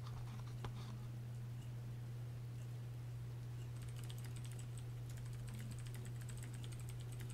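Someone types on a computer keyboard in quick, continuous patters of soft key clicks over a steady low electrical hum, with no talking.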